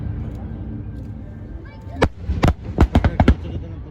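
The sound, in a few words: fireworks exploding at Taiwan National Day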